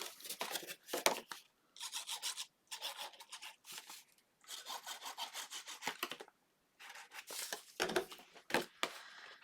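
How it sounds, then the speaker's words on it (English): A paper belly band for a scrapbook window album is folded and burnished. Soft, close rubbing strokes come in short bursts with brief pauses between them, quiet and without any talking. "And then the belly band will go in the middle. So I'm going to fold and burnish."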